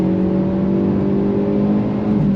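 A 2023 Hyundai Elantra N engine revs hard toward the red line, a loud, close, steadily rising drone with strong harmonic tones climbing in pitch, the exhaust note holding without a break.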